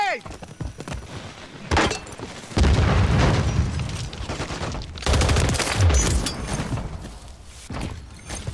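Call of Duty combat erupts in loud booms and bursts of gunfire, with a grenade going off among heavy explosions amid continuous battle noise.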